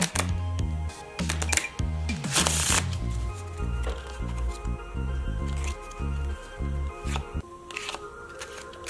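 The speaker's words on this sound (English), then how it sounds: "We shuffle the cards" A deck of playing cards is shuffled by hand at close range, with quick riffling bursts, sharp snaps and soft slides of cards over several seconds.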